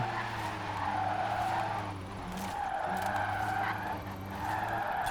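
Rimac C Two drifting in the Forza Horizon 4 video game, a sustained tire skid and squeal over a steady engine whine, swelling and easing in long waves.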